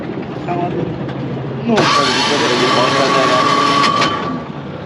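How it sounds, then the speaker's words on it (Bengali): A boat engine starts up abruptly on the Buriganga river, shifting from quiet ambience with nearby talk into a loud, steady mechanical drone that holds for several seconds before easing off slightly. "ওই যে মামা ইঞ্জিন চালু করছে"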